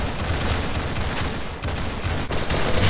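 Rapid gunfire from the Roblox game Arsenal crackles in a dense, continuous burst of overlapping shots, loud and up front with no speech over it.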